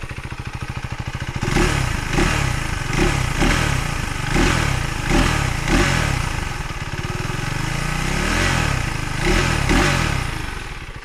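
A KTM 390 Adventure R single-cylinder motorcycle engine starts up loud and close, then runs steadily with a pulsing, thumping rhythm of repeated rev blips and a clattery mechanical edge. No voices are heard.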